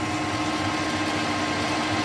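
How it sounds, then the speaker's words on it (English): A centre drill starts a hole in a metal part for a handmade custom bicycle build, giving a steady, dense machine whir and hum that stays constant throughout with no talking. "Let's just come in with a centre drill. Get that hole there centred up."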